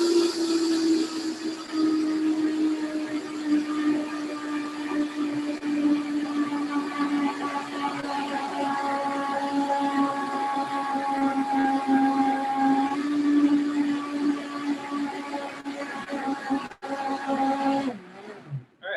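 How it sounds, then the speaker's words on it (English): A blender whirs through butternut squash and sage sauce, its motor pitch climbing steadily as the speed rises, loud and close for a long continuous stretch before cutting off near the end. "starting at a speed of 1 on our blender, slowly increasing it."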